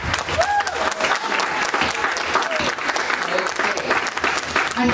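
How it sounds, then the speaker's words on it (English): A dance club audience applauds dancers after a party dance performance, continuous loud clapping with some cheering and a few voices throughout. "Let's get them applauding a little bit more."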